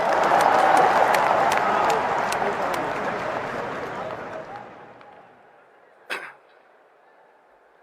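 An audience at a Congress political rally claps and cheers loudly, the applause fading gradually over several seconds, followed by a brief sharp burst of noise and near quiet.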